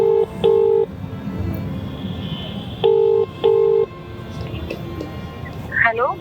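Telephone keypad tones beep in short, evenly spaced pairs as a call is placed from an indoor phone, loud and clear over a low background hum.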